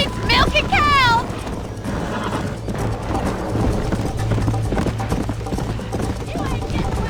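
Galloping horse hooves pound rapidly in the video game Red Dead Redemption, a loud, driving rhythm following a brief whinny, with game dialogue and music layered over it.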